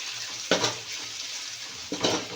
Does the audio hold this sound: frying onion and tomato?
yes